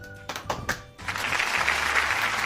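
A small family, a parent and a young child, clap for themselves after setting up a Frozen Elsa play tent at home; a few scattered claps, then a denser patter of hands, close and informal.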